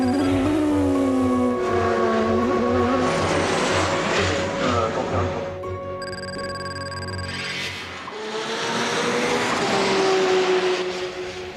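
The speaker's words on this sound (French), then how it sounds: "Every car surges forward looking for an opening," Race cars accelerating together at the start of the 24 Hours of Le Mans, a loud continuous engine roar with rising revs and cars passing close, dipping briefly before swelling again, no voices.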